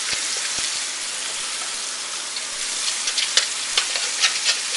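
Garlic and black beans sizzle in hot oil pooled in the center of a pan, a constant close hiss with scattered sharper pops and spatters growing toward the end, without any talking.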